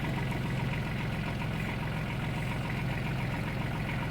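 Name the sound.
tractor engine idling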